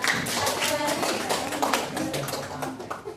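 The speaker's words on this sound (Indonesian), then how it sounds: "Beri tepuk tangan" Students in a classroom clap in a steady, fairly loud burst of applause that carries through the whole moment, with some voices mixed in underneath.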